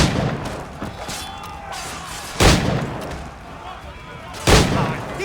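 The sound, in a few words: gunshot in the video game Assassin's Creed Black Flag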